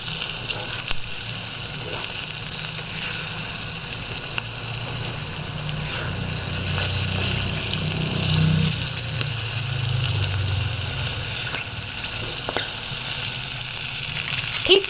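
Corn kernels frying in hot oil, a dense continuous sizzle and bubbling that holds steady throughout, close and loud with no talk.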